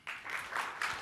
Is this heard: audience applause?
yes